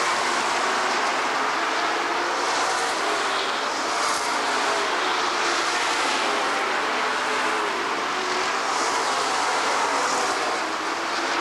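Stock cars racing at Rockford Speedway in 1994, a steady, loud wash of engine roar from the pack as the 48 and 78 cars battle for third, sustained without a break and with no voices over it.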